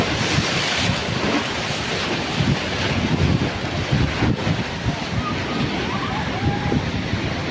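Ocean surf of the South Sea at Drini Beach, Yogyakarta, rolling in as a steady wash with rumbling low swells, buffeted by wind noise on the microphone and moderately loud throughout.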